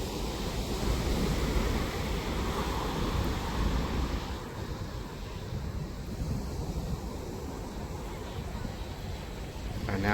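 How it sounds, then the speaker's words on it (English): Continuous washing of water waves mixed with wind noise, rising and falling gently over several seconds, with no clear speech. "enjoy the natural sounds of the water"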